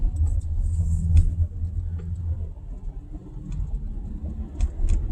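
A car drives down a highway, its engine and tyres giving a steady low rumble that swells slightly near the start and end, with no voices over it.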